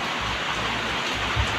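Heavy rain pours steadily in Las Piñas, a dense, continuous hiss of downpour close by with no one speaking.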